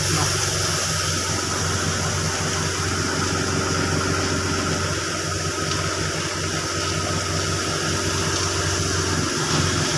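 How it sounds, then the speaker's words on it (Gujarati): A tractor engine runs at a steady idle nearby, giving a constant, even drone with a slight vibrating rumble and no talking. "જો જોઈ શકો છો મિત્રો ટ્રેક્ટર આવી ગયો"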